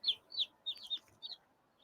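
Light Brahma chicks chirp in a few short, high peeps close by, clustered in quick pairs with brief gaps between, fairly faint with no other sounds around.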